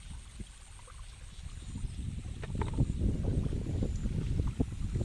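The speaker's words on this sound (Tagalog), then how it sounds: "Hangin-hangin, ang saya-saya." Wind blows steadily outdoors in a chili pepper field, rustling and buffeting the microphone with a low rumble that grows slightly stronger.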